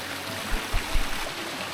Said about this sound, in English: there is just the stream, just a little creek